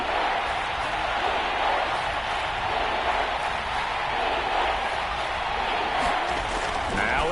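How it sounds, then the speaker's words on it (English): A football stadium crowd swells into a loud, steady roar ahead of a big third down in a Seahawks game, a broad wash of cheering and noise that holds throughout. "The crowd getting into it as we come up on a big 3rd down."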